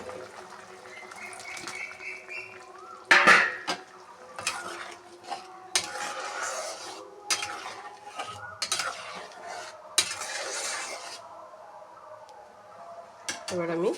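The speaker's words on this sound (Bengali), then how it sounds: "আমি এবার পনিরটা অ্যাড করে দেবো।" Paneer is added to a boiling masala for matar paneer and stirred, with repeated clanks and scrapes of a spoon against the pot over a faint bubbling simmer.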